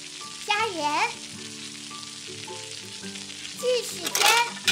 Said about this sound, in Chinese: 我们来煎鱼。